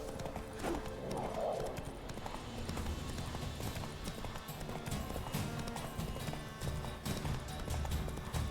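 The horse Roach gallops across open ground in The Witcher 3: Wild Hunt, a fast, steady, rhythmic drumming of hooves that carries through the whole stretch, with faint talk over it.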